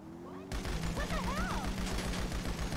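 Rapid, continuous gunfire bursts in GTA Online, dense and loud, with a steady low hum and a brief synth-like tone underneath.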